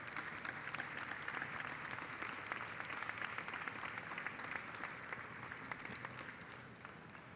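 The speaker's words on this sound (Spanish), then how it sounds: "Un aplauso para él, por favor." At a hospitality trade fair's opening ceremony, an audience applauds chef Ricardo Muñoz Zurita, a steady wash of many hands clapping at moderate distance, continuous throughout and tapering slightly at the end.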